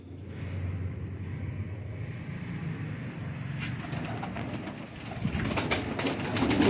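Pigeons of the Rampuri Golden breed coo softly at a loft, a low steady murmur under a busy background with some clatter and rising noise toward the end.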